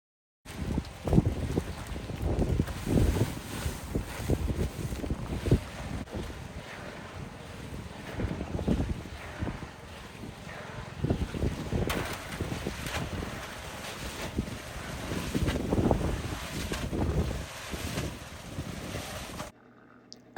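A concrete mixer barrel turns steadily while concrete is poured for piers, a continuous rough rumbling churn with sloshing that stays loud and even throughout, with no voices.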